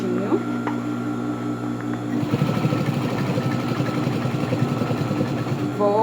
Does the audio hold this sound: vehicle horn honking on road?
no